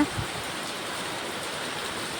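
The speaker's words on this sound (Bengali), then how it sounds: "অনেকদিন পরে খুব ভালো জোরে বৃষ্টি হচ্ছে" Heavy rain pours steadily on a wet afternoon in Dum Dum, a dense, even hiss of falling water holding at one level throughout with no voices.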